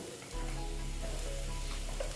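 Continuous sizzling of something frying in a pan, steady and close, with a low hum underneath.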